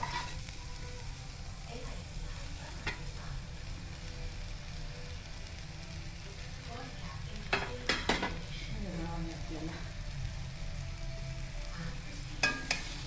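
Bread pieces being stirred into a frying masala for pav upma in a pan: a steady sizzle runs throughout, with scraping stir strokes and a few sharper clacks of the spoon against the pan.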